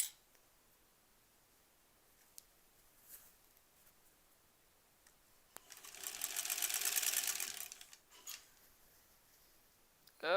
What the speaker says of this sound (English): this is actually the first seam that we're sewing the two pieces together.